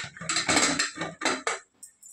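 A metal pressure cooker lid is lifted off after cooking gongura dal, with a burst of sharp metallic clanks and pot clatter in quick succession, close and loud.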